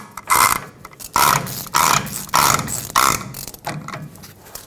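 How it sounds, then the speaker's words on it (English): A special socket on a ratchet tightens the rear wheel hub nut on a 2011-2016 Ford F-350, producing five close, loud bursts of rapid clicking separated by short pauses. "Stick your special socket in and tighten it up."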